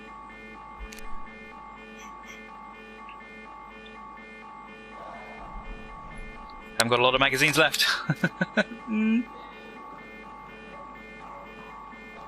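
An alarm in the survival game SCUM drones as a steady, repeating electronic buzz throughout, while someone talks over it and a burst of louder sound breaks in partway through.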